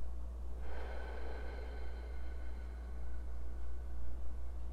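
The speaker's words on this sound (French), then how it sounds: "J'inspire par le nez." A slow, deep inhale through the nose during an abdominal breathing exercise: a soft, airy hiss lasting about two seconds, close and faint over a steady low hum.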